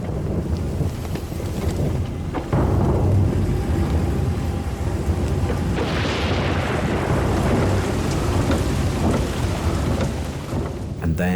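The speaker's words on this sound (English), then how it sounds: "And then most heavy monsoon rain." Heavy monsoon rain pours down with rumbling thunder in Cambodia, a loud continuous roar with gusts of wind buffeting the microphone and a swelling burst partway through.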